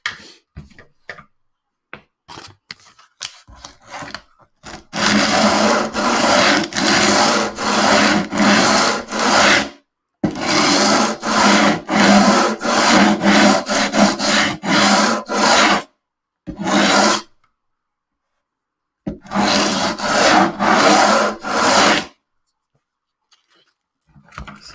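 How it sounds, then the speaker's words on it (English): Sandpaper rubbing on the wood of a vintage classical guitar during a refret, repeated loud rasping strokes in long bursts with brief pauses between, close by. "First grit of sandpaper."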